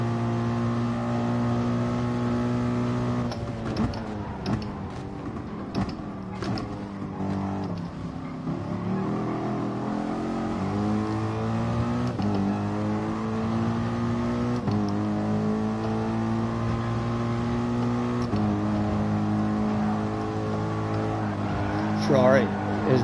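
Ferrari Formula 1 car engine in a racing video game, a steady high droning whine that rises and falls through gear changes, continuous and loud, with a voice talking over it.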